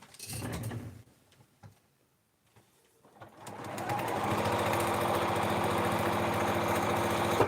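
A sewing machine stitches quilt fabric for a block-of-the-month project. After a few quiet seconds with small handling noises, it starts up and runs loud and continuous to the end.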